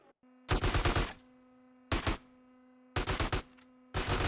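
Bursts of automatic gunfire from a recoil-free weapon in GTA San Andreas, four loud rapid-fire volleys separated by short pauses over a steady low game hum.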